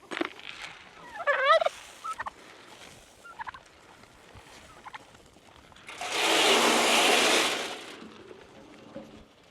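Farmyard geese make a few brief honking calls near the start, followed by scattered small noises and a long burst of broadband rushing noise.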